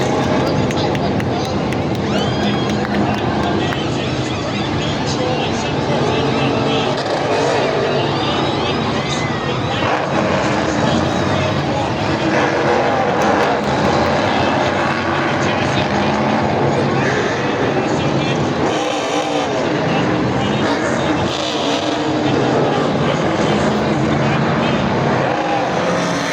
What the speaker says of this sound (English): just wanted to hear a full pit stop